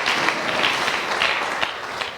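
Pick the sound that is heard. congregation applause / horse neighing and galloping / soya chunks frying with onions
congregation applause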